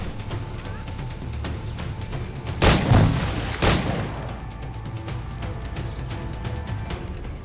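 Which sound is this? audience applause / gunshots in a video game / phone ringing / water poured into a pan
gunshots in a video game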